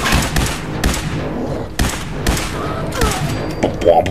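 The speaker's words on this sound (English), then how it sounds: "It's a dubstep gun." A dubstep gun firing in Fallout 4, a rapid stuttering burst of loud pulsing shots, with voices talking over it.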